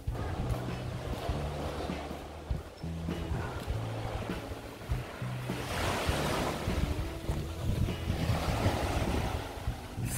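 Sea waves roll onto a white-sand beach in Shikoku, a steady surging wash with swelling crests, heavily mixed with gusty wind buffeting the microphone.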